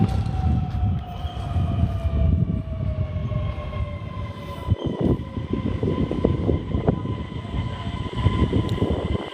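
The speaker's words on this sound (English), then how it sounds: "Train's here." A train rumbles and clatters close by as it arrives at a station, wheels grinding on rails with a faint high tone sliding down as it slows.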